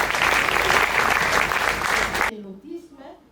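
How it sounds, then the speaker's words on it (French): A gala audience breaks into loud, sustained applause for about two seconds, which cuts off abruptly and gives way to a voice speaking quietly. "applaudissons très fort pour elle pendant qu'elle prend la parole"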